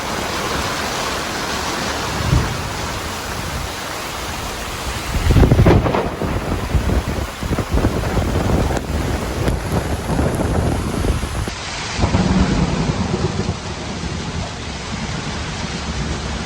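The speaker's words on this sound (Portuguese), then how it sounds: "De repente veio uma bomba de vento e chuva que durou quase 1 hora." Thunderstorm with heavy rain and strong wind lashing a sailboat: a steady loud roar of downpour and gusts, with rumbling thunder swelling around the middle and again near the end.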